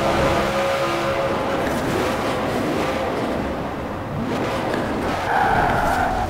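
A Koenigsegg One, rear-wheel drive, roars through a Forza Horizon 4 race, its engine note surging and tires hissing on the road, loud and continuous with a rising tone near the end and no talk.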